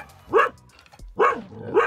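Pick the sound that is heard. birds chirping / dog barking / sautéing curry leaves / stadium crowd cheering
dog barking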